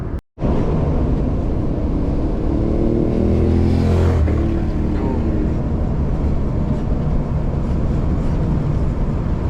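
A motorbike roars past close by on a hilly road near Matlock, its engine rising then falling away, over a constant loud rush of road and wind noise from inside a car.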